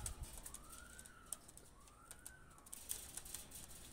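Pakistani pigeons coo softly in gentle swelling calls, with faint clicks and shuffling around them. The scene is quiet and fairly close.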